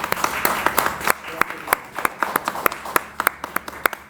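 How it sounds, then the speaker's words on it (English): An audience claps for a presenter at a startup pitch competition grand final, with sharp individual hand claps ringing out in a loose, steady stream, moderately close and fairly sparse. "Let's give Wendy another round of applause"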